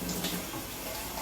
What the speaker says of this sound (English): don't mind the water in the background. My husband's filling up the ice tray.